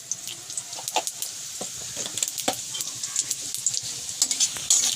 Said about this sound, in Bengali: কড়াই আগে তেল দিলাম, শুকনো লঙ্কা তেজপাতা দিলাম আর জিরে দিলাম